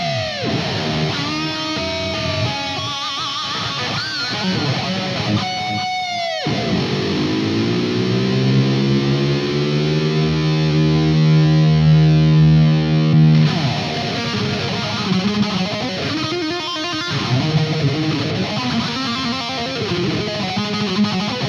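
Electric guitar through an EVH 5150III LBX lunchbox amp with distortion and a long delay, loud rhythmic chugs giving way to a sustained bending lead note whose repeats trail behind, then more riffing, with no talk.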